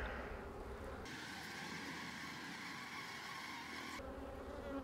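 Honey bees swarming thickly inside a full, brood-loaded hive give a dense, steady buzzing drone that swells louder midway and then eases back, close up with no talk.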